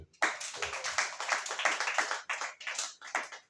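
A church congregation at worship claps together in quick, uneven bursts, fairly faint and somewhat distant, with short pauses between runs of applause.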